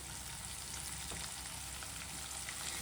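Onions fry in oil for a chicken gravy, a steady, even sizzle that stays fairly quiet and continuous throughout, with no talking.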